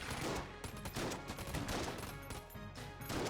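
Dense, continuous volleys of gunfire from the Enter the Gungeon video game, rapid overlapping shots filling the whole stretch at steady loudness with no talk.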